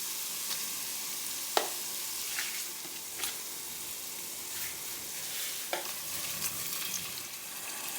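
Peppers, tomato mix and caramelized onions with garlic and ginger fry in a pan, a steady close sizzle broken by a few sharp scrapes and clinks of stirring.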